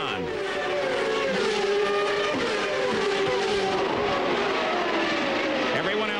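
Indy cars from the 1999 CART Honda Indy 300 in Australia scream through a corner in close battle, several engines wailing and shifting pitch together, loud and continuous, with a commentator talking over them.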